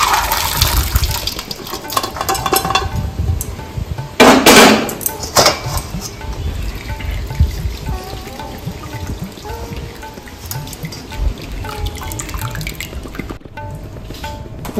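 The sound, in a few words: pouring cooked dal into a strainer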